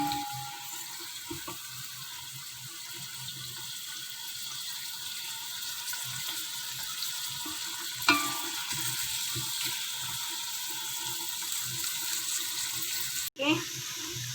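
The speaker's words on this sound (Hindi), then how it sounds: "हमारा प्याज लाइट ब्राउन हो गया, बस इतना ही करना है।" Onions frying in oil for a mash daal, turning light brown, give off a steady, moderately quiet sizzle that runs throughout with a few small clinks, under no speech.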